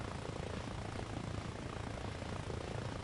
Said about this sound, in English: that is the third fucking helicopter in 10 minutes that he's called in